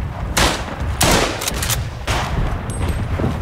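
Heavy gunfire from the First World War shooter Tannenberg, several loud, close blasts spaced a second or so apart over continuous battlefield rumble, with no talk.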